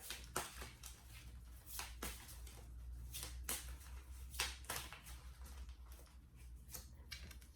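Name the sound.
tarot cards being shuffled by hand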